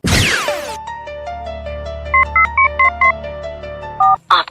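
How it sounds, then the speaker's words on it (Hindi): A mobile phone dials a call after a brief swoosh, producing a run of short, loud keypad tones in quick rhythm over a steady hum, then a final pair of beeps. "चल मिला अपने घर वाले इनको फोन।"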